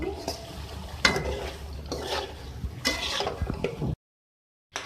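A spoon scrapes and stirs chicken karahi with kasuri methi in a pan, a few distinct clinks and scrapes over a soft sizzle, then a brief silence before the stirring resumes.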